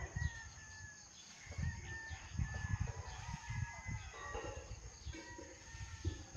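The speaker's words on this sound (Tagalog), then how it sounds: "Ang dami pong manok." Chickens and roosters on a fighting-cock farm in the early morning, with crowing and clucking heard faintly at a distance over a low, rumbling outdoor background.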